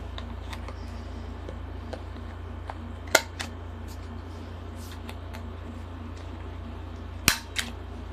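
Two sharp clicks from a craft corner-rounding punch cutting paper corners, each followed by a faint second snap, spaced a few seconds apart over a steady low hum in a quiet room.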